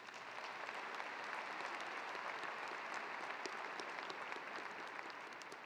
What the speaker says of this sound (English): Now, let's applaud them, please.